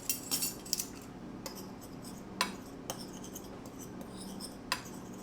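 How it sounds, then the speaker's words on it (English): Taco seasoning being stirred in a bowl while making a Mexican pizza, soft scraping with scattered light clinks of a spoon against the dish, fairly quiet and with no talk. "What we're going to be doing now is we're going to stir it all up."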